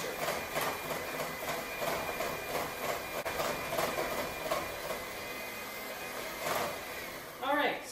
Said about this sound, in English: So we do want to beat that egg quite a lot, at least 1 minute on the highest notch